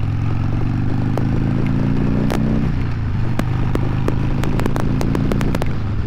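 Harley-Davidson Sportster 883 motorcycle being ridden on a morning ride, a loud steady engine rumble with shifting pitch, plus scattered clicks and clatter over constant road and wind noise.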